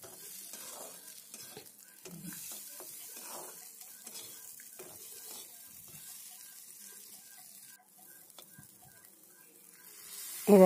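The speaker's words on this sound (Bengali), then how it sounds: "দেখুন এইভাবে ভেজে নিতে হবে ভালো করে।" A fish head sizzles and fries in a pan while being stirred, a soft crackle with faint scraping and clinks throughout, ending in a sudden louder splash-like burst.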